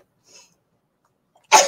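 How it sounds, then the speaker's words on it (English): A single sharp human sneeze bursts out at the very end after near silence, close and loud, with only a faint soft sound earlier. "Excuse me, had a sneeze."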